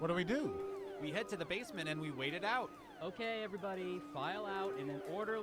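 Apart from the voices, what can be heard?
No distinct noise like a dog, phone or traffic.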